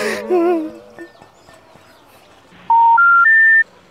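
Three short telephone tones ring out one after another, each pitched higher than the last, as a call fails to connect. A brief warbling sound comes just before them.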